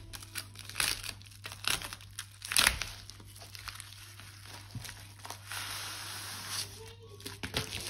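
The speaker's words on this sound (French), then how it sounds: "On va commencer par ouvrir la toile qui est juste ici." Crinkling plastic wrap being pulled and torn off a diamond painting canvas, with close, uneven bursts of crumpling and a few sharper tearing rustles at a steady low level.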